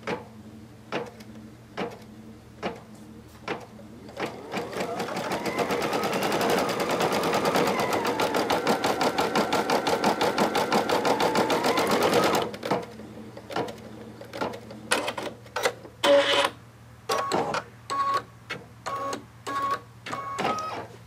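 Kimberbell embroidery machine stitching a design, a dense rapid mechanical chatter running steadily for several seconds after scattered clicks and taps, then breaking back into intermittent knocks and short bursts, close and alone without talk.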